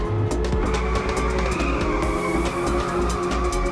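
A car in the racing game Inertial Drift drifts through a turn, its steady engine drone joined by a sustained tire squeal, loud and continuous throughout without voices.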